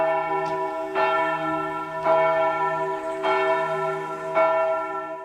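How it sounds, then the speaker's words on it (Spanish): Bells ring out from the Basilica of the Fourteen Holy Helpers in Upper Franconia, Bavaria, a loud pealing with strikes falling roughly once a second over a sustained, ringing hum of overtones. "esta nos saluda con un fuerte repique de campanas"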